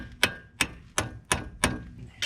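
A small hammer taps a suspension strut tool set in the bottom of a Peugeot 407 SW front strut: five sharp metallic knocks, evenly spaced and close, with no voices.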